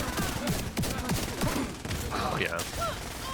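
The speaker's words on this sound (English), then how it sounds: "I hear gunfire." Gunfire in The Division video game comes in rapid, overlapping bursts of sharp cracks layered over game ambience. A voice is heard faintly in the mix throughout.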